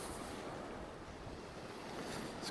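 Steady warm coastal wind of about 15–20 mph gusts against the microphone, with surf rolling in below high eroding cliffs on the coast near Cromer, a continuous broadband roar with no voices.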